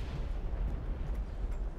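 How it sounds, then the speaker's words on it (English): Deep, rumbling booms of tank gunfire from a Churchill VII in War Thunder, a continuous heavy low roar with no voices. "There's a shooting."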